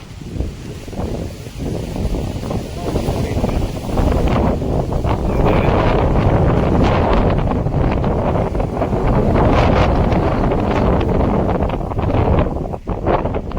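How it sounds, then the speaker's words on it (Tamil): Strong wind at a Western Ghats mountain viewpoint in Theni district, roaring loud and close as continuous buffeting against the microphone, building up after a few seconds and holding steady. "காற்று செம்ம காற்றுங்க வந்து பார்த்தாலே தெரியும்"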